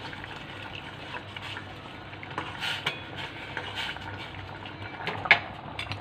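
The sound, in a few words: broccoli soup with cornstarch boiling in pot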